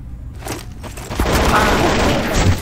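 Counter-Strike: Source gunfire erupts as a loud, dense, continuous burst of shots and booms, close and overwhelming, with a voice shouting briefly amid the barrage.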